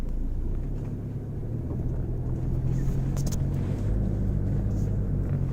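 A Toyota Fortuner 2.8 4x4 drives along, a steady low engine and road rumble heard from inside the cabin, continuous and moderately loud with a few faint clicks.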